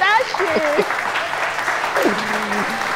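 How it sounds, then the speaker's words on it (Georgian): A studio audience at a TV talk show, Vano's Show, applauds in a dense, steady wash of clapping while voices talk over it. "ტაში"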